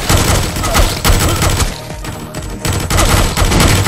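Gunfire rattles through the video game Foreign Legion: Multi Massacre, loud, dense bursts of rapid shots and booms with a short lull in the middle before the shooting resumes.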